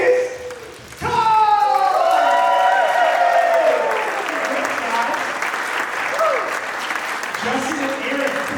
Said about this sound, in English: slapping your legs, stomping your feet, making some noise